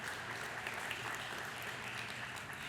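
Audience at a church talk claps in a steady, dense round of applause, fairly soft and even throughout.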